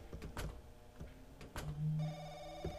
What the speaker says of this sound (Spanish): Otra vez el teléfono.